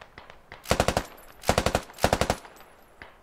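Machine gun fire in the shooter game Squad: three rapid bursts of about five loud, close shots each, spaced by short pauses, with a few softer single cracks around them and no talk.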